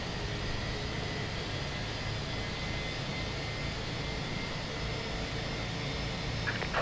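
A British Airways A320's jet engines in Microsoft Flight Simulator 2024 give a steady, dense drone that holds at an even level throughout, with no talk over it.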